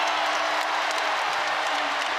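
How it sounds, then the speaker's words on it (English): Basketball arena crowd roars as Virginia takes the lead against North Carolina in an ACC men's game, a dense, sustained wash of cheering and clapping that fills the space at high volume. "And the crowd loves it, baby."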